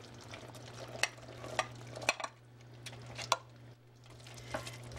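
Award-winning cheese being stirred into a pan to melt, with a steady low sizzle and several sharp scraping clicks of the utensil against the pan, fairly quiet and with no talking.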